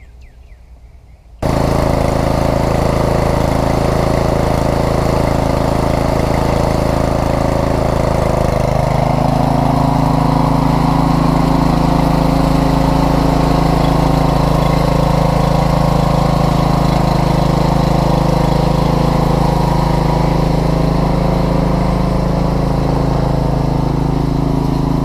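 Craftsman lawn mower engine starting after a moment of quiet, then running loud and steady close by for a long stretch, a constant droning rumble with a slight shift in pitch partway through.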